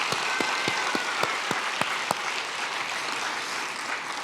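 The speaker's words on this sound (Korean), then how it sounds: "격려의 박수 한번 뜨겁게 해주십시오." A church congregation at a Christmas service applauds the children, starting with a steady rhythm of distinct, evenly spaced claps, then blending into a dense, sustained round of applause that fills the hall.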